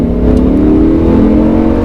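A Lamborghini Huracán engine roars loudly and steadily under hard acceleration on a race circuit, its pitch climbing slightly, close and continuous.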